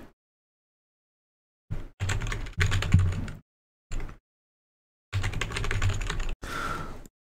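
A password is typed on a computer keyboard in short, close bursts of rapid key clicks separated by silent pauses.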